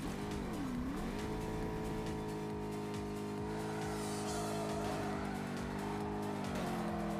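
Car drifting in the Ace Racer mobile racing game, a loud engine note rising and falling with tire squeal as the car slides through corners, continuous throughout.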